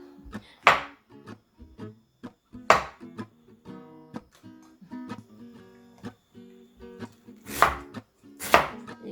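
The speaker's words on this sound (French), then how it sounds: "เห็ดจะหั่นเป็น4ชิ้นนะคะเพราะว่าเห็ดใหญ่มาก" Knife chopping large Paris mushrooms into quarters on a board: a run of crisp, close, uneven thuds and taps, with a few heavier strikes spaced among lighter cuts, no talk.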